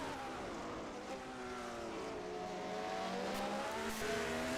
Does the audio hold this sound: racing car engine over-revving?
yes